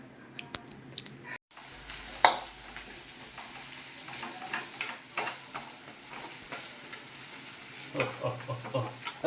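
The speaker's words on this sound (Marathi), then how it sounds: "तेल टाकल्यानंतर आपण बाकीचं मिश्रण म्हणजे कांदा, टोमॅटो, मिरची, अद्रक लसणाची पेस्ट, थोडीशी कोथिंबीर आपण त्याच्यामध्ये टाकू" Onion, tomato, chili and ginger-garlic paste sizzle steadily in hot oil, with a spoon scraping and stirring in repeated sharp strokes over the constant frying hiss.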